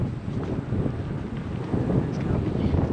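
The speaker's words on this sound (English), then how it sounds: "Holy cow, is it windy. It's blowing 30 mile an hour." Strong wind gusting at about 30 miles per hour by a lake, a steady rough buffeting roar across the microphone with rising gusts, no clear voices.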